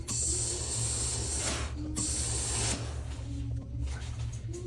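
A sewing machine stitching a suit seam whirs continuously at close range with a rapid rattling mechanical rhythm, easing off briefly once or twice.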